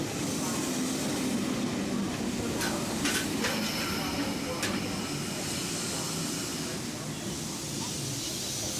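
A train rumbles steadily alongside a platform with hissing air and brief squeals of brakes, a loud continuous roar throughout.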